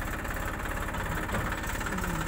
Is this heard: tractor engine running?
yes